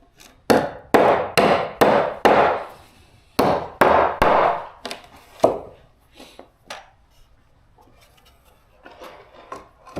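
A framing hammer strikes repeatedly and loud and close on a job site, in quick bursts of three to four blows with short pauses, then fading to lighter, scattered taps.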